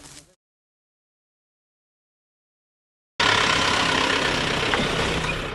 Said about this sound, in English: Driving in Costa Rica is not always easy because the roads are kind of narrow.